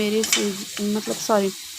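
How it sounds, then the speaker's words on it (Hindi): Sevai (vermicelli) fries in a pan over a low flame while being stirred, giving a steady close sizzle with a voice talking over it. "तो मैं उसको अच्छे से ब्राउन होने तक, लाल रेड ब्राउन होने तक भून लूँगी मैं धीमी आंच पे।"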